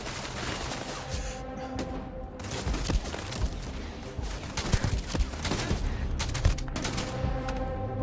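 Dense, continuous gunfire from the player's weapon during hardcore survival combat in Starfield, a loud rolling barrage of overlapping shots and booms with no clear gaps.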